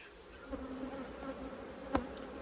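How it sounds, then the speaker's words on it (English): A steady hum of honey bees buzzing close by at a beehive, with a few individual bees droning louder as they pass near, and no voices. "get rid of this cluster of bees that was on a hive behind me"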